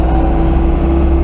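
A van fitted with a Yuchai diesel engine and a newly installed injection pump accelerating on the road, a loud steady droning rumble with engine tones held close throughout, no speech.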